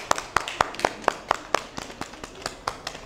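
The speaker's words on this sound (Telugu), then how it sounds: "అందరం అందరి కోసం ఒకసారి చప్పట్లు కొట్టుకుందాం మళ్ళీ" Children in a classroom clapping together after a language game, with a quick run of about a dozen sharp, fairly even claps that grow softer and looser toward the end.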